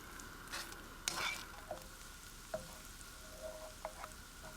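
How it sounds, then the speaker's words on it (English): Onions fry in cold-pressed rapeseed oil, giving a quiet, close steady sizzle with occasional soft stirring scrapes and small pops over a few seconds. "I'm frying them in cold-pressed rapeseed oil"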